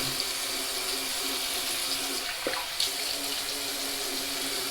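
Tap water runs steadily into a sink as a man washes his face before a double-edge shave with an Edwin Jagger DE89 razor, a continuous close splashing hiss with brief louder splashes near the middle and no talking.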